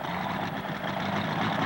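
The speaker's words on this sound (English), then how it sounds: "Got to get those RPMs up, get that turbocharger." A turbocharged pulling tractor roars at high revs at a 1996 tractor pull in Madisonville, Kentucky, a loud, sustained engine drone heard close with no speech.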